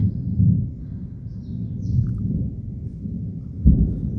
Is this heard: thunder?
yes